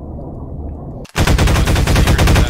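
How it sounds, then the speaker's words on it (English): Automatic gunfire in Half-Life 2 Deathmatch rips into a ceiling, a loud rapid burst of rhythmic shots cutting in abruptly after a second of low background hum. "Shooting you, I'm shooting a ceiling out."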